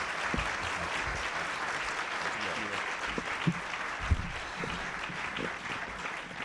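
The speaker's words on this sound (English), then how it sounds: "How about a round of applause for our speaker today?" Audience at a National Press Club luncheon in Washington applauding the speaker, a steady dense wash of clapping throughout, moderately loud and continuous, with a few louder knocks and voices mixed in.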